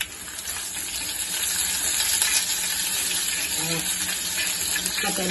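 Ginger-garlic paste frying in a pan: a continuous, close, bright sizzling hiss that holds at an even level, with a few faint clinks toward the end.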